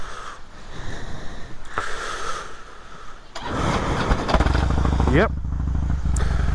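A Harley-Davidson motorcycle cranks and fires into a loud, lumpy idle partway through, following a stretch of talking and handling noise, with a voice speaking briefly over it.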